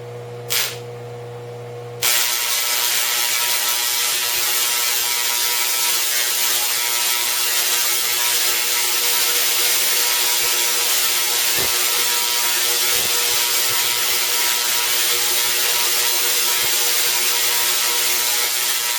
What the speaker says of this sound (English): turn on the spark gap motor